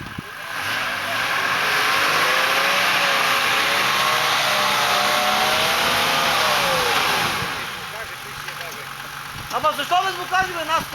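An off-road vehicle's engine revs hard and loud for several seconds with rising and falling pitch, then drops away; voices talk over it and toward the end.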